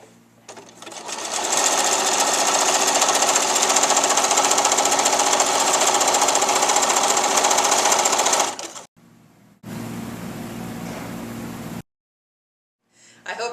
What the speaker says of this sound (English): The final step of this technique is to sew all around the edge one more time